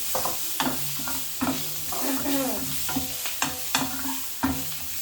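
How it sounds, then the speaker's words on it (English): Onions sizzle steadily in sesame oil in a hot pan while a utensil scrapes and knocks against it in repeated stirring strokes, close and fairly loud. "So that's the onion frying."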